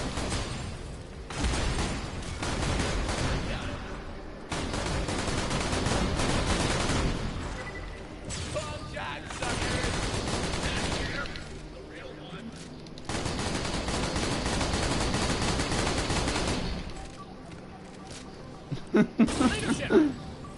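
A shotgun that doubles as a machine gun fires in Borderlands: The Pre-Sequel, loud bursts and rapid volleys mixed with game effects and a voice talking over the action.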